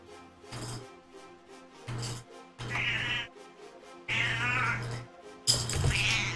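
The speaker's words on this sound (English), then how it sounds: "Miss Kitty caught the evil noisy ball, but she didn't bring it close enough for me to reach" A pet cat meows about five times in close succession. Each call is loud, near and clear, with brief silences between them.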